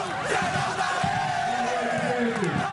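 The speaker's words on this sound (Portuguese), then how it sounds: "O prefeito foi recebido com aplausos." Crowd celebrating a re-elected mayor's victory at a landmark square in Recife: loud, continuous massed cheering and shouting voices, with a chant-like rising and falling quality throughout.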